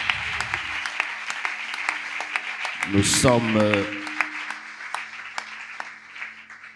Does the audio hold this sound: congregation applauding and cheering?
yes